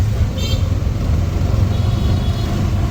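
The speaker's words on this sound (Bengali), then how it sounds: "চলে এসছি অটো স্ট্যান্ডে" Road traffic rumbles at an auto-rickshaw stand under a cloudy sky, a steady loud drone of passing motor vehicles with a brief higher whine near the start.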